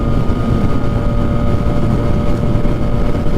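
Heavy wind roars against a rider on a Yamaha MT-09 (FZ-09) motorcycle at highway speed, a loud constant low rumbling buffet that drowns everything else.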